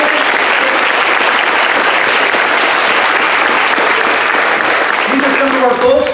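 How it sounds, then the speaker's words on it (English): Loud, close applause fills the room as a summit audience honors volunteers. The clapping is continuous and dense, with voices and cheering rising near the end. "Let's give them a round of applause, everybody."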